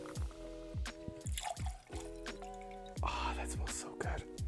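Jamaican rum pours into a metal cocktail tin in short liquid splashes and trickles, heard close up under a voice talking.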